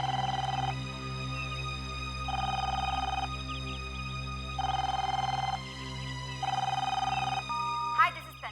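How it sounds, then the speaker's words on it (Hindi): Telephone ringback tone on an outgoing call, four evenly spaced ring bursts with pauses between, ending in a short click, with a low background hum beneath. "एक मिनट, मैं मैम को फोन मिलाता हूँ, शायद वो आराम कर रही हूँ।"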